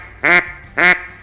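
A duck call blown to mimic a mallard-style quack gives two short, loud, nasal bursts about half a second apart, each cut off crisply, with nothing else around them.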